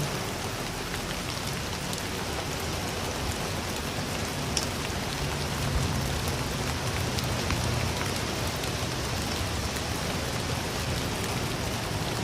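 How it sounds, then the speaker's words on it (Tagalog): Heavy rain falling in Singapore, a dense continuous hiss of drops on surfaces, steady and loud throughout with no voices. "Pero etong ulan na to mga ka-OFW, tumitigil din to, hindi to nagtatagal."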